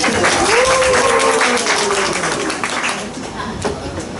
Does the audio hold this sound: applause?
yes